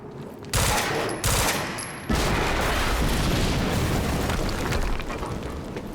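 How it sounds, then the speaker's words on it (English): A loud explosion in the video game Quantum Break, an industrial-area level: sharp booming blasts in quick succession, then a sustained roaring rumble of fire and debris that carries on without talk. "HQ, we just heard an explosion near the harvesting perimeter."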